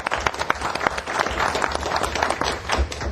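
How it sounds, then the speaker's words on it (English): A meeting audience claps for a few seconds at a Board of Commissioners session, a close, busy patter of many hands that stays fairly even throughout, with no voices. "I hope that you will join me in applauding his service and achievements inside and outside Los Angeles Department of Water and Power."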